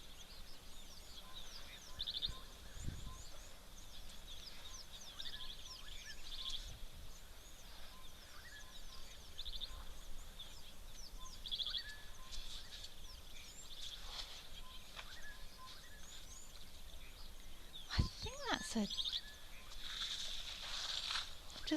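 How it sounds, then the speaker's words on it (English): Bird calls at a waterhole: repeated chirps and whistled notes scattered throughout, fairly faint and somewhat distant over a steady outdoor background hiss, with a few brief louder sounds near the end. "Just listen to that bird calling in the background."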